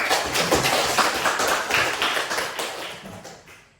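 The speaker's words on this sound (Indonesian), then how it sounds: "tepuk tangan untuk jawaban." Brief classroom applause for a student's answer: a burst of many hands clapping together, fairly close and loud, fading out after a few seconds.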